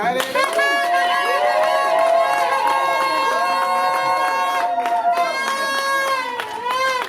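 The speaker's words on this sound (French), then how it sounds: "On peut acclamer très fort." Crowd at a religious wedding ceremony in Brussels cheering loudly, with a sustained chorus of high shouts, whoops and ululating voices overlapping throughout, and a little clapping mixed in.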